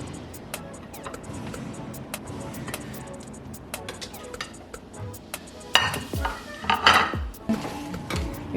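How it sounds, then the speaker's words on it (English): Rice being scooped onto a plate with a utensil while salmon is plated at home, a string of light scrapes and clinks of metal on dishes, growing busier and louder toward the end, with no talk. "Just take some scoops of the rice."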